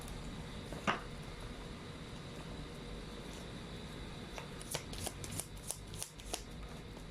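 Tarot cards shuffled by hand during a love reading, a quiet steady riffling texture with a brief sharper rustle near the start and a run of soft crisp card snaps toward the end, no talking.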